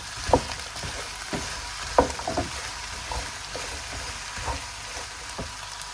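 Okra (bhindi) fries in a pan for restaurant-style masala bhindi, making a continuous soft sizzle broken by several sharp clinks and scraping stirs of a utensil, close and moderately loud, with no voices.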